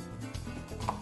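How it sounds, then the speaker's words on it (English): A knife chops through half an onion on a cutting board while making stuffed peppers, a few quick dull knocks close by and fairly quiet, with no one speaking. "And of course the onion's gonna fall apart on me, so chop that up."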